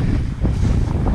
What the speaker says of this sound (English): Tad bit windy out here today.